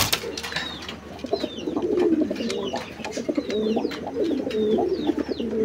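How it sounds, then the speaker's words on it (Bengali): Pigeons, including a pair of Lahori pigeons, coo continuously in a large loft on a farm in Gazipur, layering rolling coos close by with scattered higher chirps and some wing movement. "এই যে এইখানে আছে এক জোড়া কবুতর"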